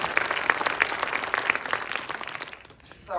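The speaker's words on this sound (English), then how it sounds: "Please join me in a round of applause." Lively audience applause for a panel on AI and the workforce at a Birmingham business conference, crisp clapping from a medium-sized crowd that thins out and fades near the end.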